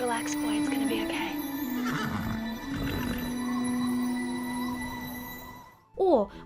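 A horse whinnies loudly over a noisy, busy background, followed after a brief lull by a short, sharp second neigh close by.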